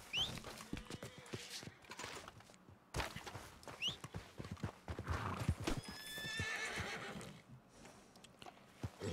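Horse in the RedM game called over, with repeated hoof clip-clops on the ground and several clear whinnies, loud and close, with no talking.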